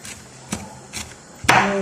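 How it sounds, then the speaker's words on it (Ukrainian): A knife chops hot peppers on a cutting board with a few distinct, close, fairly loud thuds spaced about half a second apart, with no voices. "Ріжу гострі перчилі."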